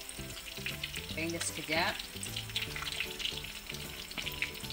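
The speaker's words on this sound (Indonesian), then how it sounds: "saya goreng pakai api kecil ya guys ya" A fish fillet fries in oil on low heat, giving a steady close sizzle throughout while a voice speaks briefly and music plays underneath.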